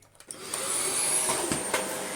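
A Dyson Ball Animal 2 upright vacuum cleaner running on a hard floor starts up and settles into a steady, loud, airy whine with a high motor tone, close by.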